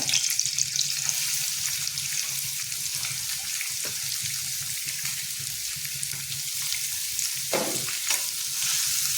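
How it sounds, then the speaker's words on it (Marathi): Onion and chilli sautéing in a pan for egg bhurji, a continuous close sizzle and crackle with occasional clinks and scrapes of stirring and no voices. "कांदा सुद्धा आपल्याला व्यवस्थित लाल गुलाबी कलरचा होईपर्यंत परतायचा आहे, भाजून घ्यायचा आहे।"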